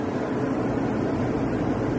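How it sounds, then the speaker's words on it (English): Close and constant, a dehumidifier fan runs in a church's choir room, giving a broad, steady whooshing drone with no breaks and no voices. "Sorry about the fan sound, guys. It's a dehumidifier."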